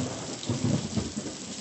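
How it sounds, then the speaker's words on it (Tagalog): Thunder rumbles low and heavy through steady rain, a short rolling swell of sound without any voices. "Takot si Talia sa kulog."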